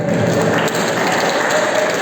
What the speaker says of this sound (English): Give applause one more time to Ustaz Ade